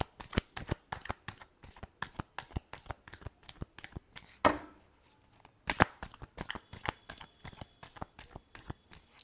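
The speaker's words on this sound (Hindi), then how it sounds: "Last shuffle." Playing cards are shuffled over and over in a steady run of crisp riffles and snaps, close and clear with no talking, during a tarot reading.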